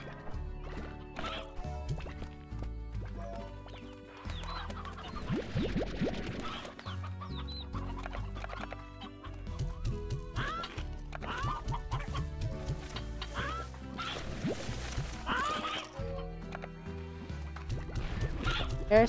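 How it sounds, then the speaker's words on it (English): Chickens cluck in a Slime Rancher ranch scene, scattered short clucks over steady game music and effects, fairly close and mixed in at moderate level. "There's some chickens."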